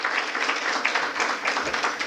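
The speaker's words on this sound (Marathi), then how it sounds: "खूप जोरात टाळ्या पुन्हा एकदा." Loud, dense applause from a large audience at an annual class gathering marking a 25th anniversary, steady and sustained from start to finish with no talk heard over it.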